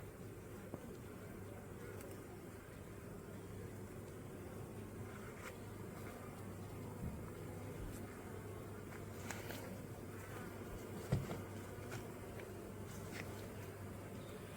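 Swarming honey bees at night near a hive, a continuous low hum held beneath faint scattered clicks and taps, moderately distant and quiet throughout.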